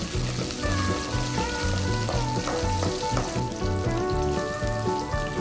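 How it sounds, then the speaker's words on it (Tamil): Mustard seeds, chana dal, curry leaves and green chillies frying in hot oil for an idli upma tempering, a steady close sizzle and crackle running throughout with music playing over it. "பச்சை மிளகாயும் சேர்த்து நல்லா வதக்கி விட்டுக்கலாம்."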